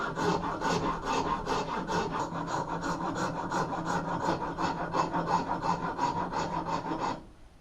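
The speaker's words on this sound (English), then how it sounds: "My first job is to use a rasp to shape the tenon to fit the hammerhead." Wood rasp shaping the wooden tenon of a hammer handle to fit the hammerhead: steady, rhythmic back-and-forth rasping strokes, close and even, about two per second, stopping abruptly at the end.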